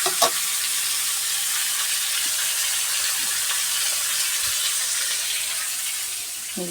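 Potatoes and onion fry in a pan with a dense, even hiss of hot oil that holds steady throughout, with faint clinks near the start and no voices.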